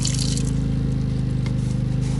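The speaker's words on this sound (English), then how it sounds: "Now we can test the valve. And there you are, water comes out." Water flows steadily out of a new plastic drain valve on an RV water tank, a continuous close watery rush with a low, even rumble throughout.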